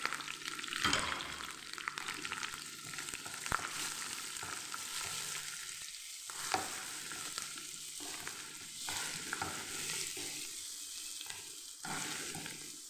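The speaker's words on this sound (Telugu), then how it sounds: "ఈ మామిడికాయ తురుము అయితే చాలాసేపు ఆయిల్లో వేయించాలి. ఎంత వేగితే అంత టేస్ట్ అవుతుంది." Grated raw mango frying in oil for mango pulihora gives a steady, close sizzle throughout, with occasional stirring scrapes and no voices.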